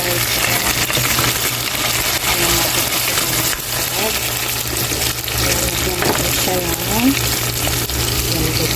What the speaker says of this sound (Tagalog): Prito ko lang